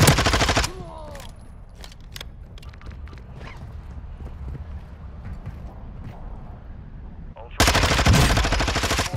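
Gunfire in the Call of Duty DMZ video game, with loud dense shot bursts at the start and again near the end. Between them is a quieter stretch of scattered in-game clatter and ambience.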